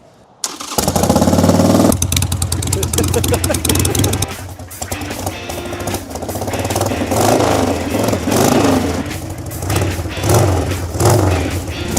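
A 23-year-old Harley-Davidson Sportster motorcycle engine revs and idles close by, its low rumble rising and falling, with people talking and shouting over it.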